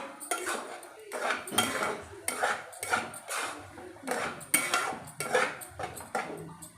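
A spoon stirs curry in a metal pot, making a close, rhythmic run of scraping clanks, roughly eight strokes in quick succession with no speech.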